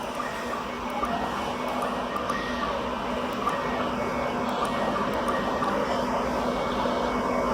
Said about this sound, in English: When we press this button, the carousel magazine will rotate negatively.